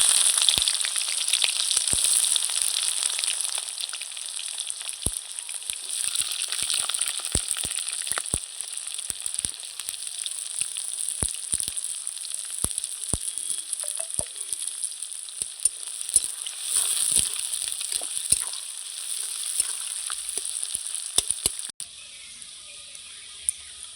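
Sliced onions fry in hot oil with green cardamom for chicken do pyaza, a bright, constant sizzle with scattered crackles that drops abruptly to a quieter hiss near the end.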